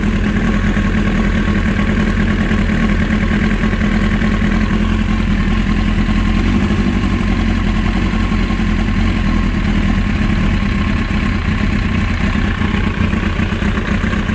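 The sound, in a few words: motorcycle engine idling during carburetor sync adjustment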